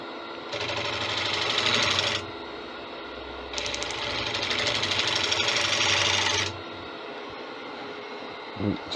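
Wood lathe turning a 16-inch Spanish chestnut bowl with a gouge, two loud sustained bursts of hissing, scraping cuts over a low motor hum, separated by a quieter pause, then the cutting stops.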